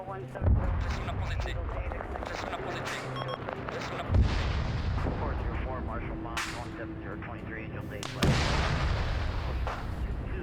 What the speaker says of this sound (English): they literally just dumped the entirety of their rocket pods into that